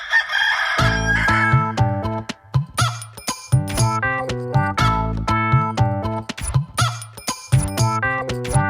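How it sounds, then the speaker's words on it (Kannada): A rooster crows repeatedly and loudly, close by, in a series of bright harmonic calls with short gaps between them, heard alone without talk. "ಕೋಳಿ, ಕೋಳಿ."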